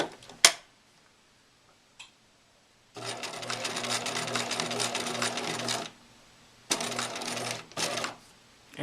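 Apron fabric stitched on a sewing machine: two bursts of rapid, steady mechanical whirring close by, with a couple of sharp clicks and quiet pauses between runs.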